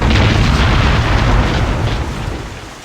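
A deep, loud video-game explosion in modded Hidden & Dangerous booms right away, then a rumbling roar slowly fades over a few seconds.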